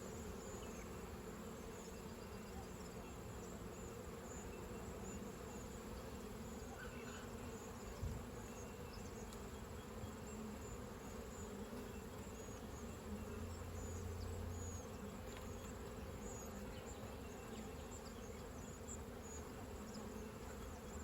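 Honeybees buzz steadily at a hive during orientation flights, a dense, continuous insect drone that holds evenly throughout with no talking.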